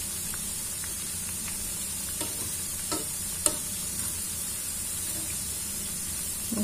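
Pinched honey cake dough frying gently in a pan, a steady low sizzle and hiss with a few faint clicks and one brief sharp tap, close and quiet, no voices.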